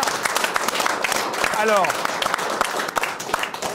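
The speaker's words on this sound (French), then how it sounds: "Je vous demande d'applaudir très fort aussi le public très nombreux qui est venu ce soir." A large studio audience applauding at a TV talk-show taping, dense continuous clapping throughout, with a voice briefly rising over it partway through.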